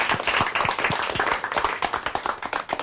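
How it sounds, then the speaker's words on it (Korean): Studio audience at a Korean lecture show bursts into steady, dense applause, many hands clapping close together for a few seconds with sharp individual claps standing out near the end. "박수 한번 주십시오."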